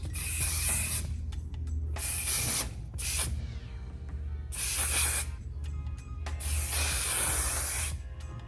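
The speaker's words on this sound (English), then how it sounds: "I'm gonna get some hairspray and get this crack-a-lackin'." Hairspray hisses from an aerosol can in five close bursts of varying length, separated by short pauses, with a quiet background.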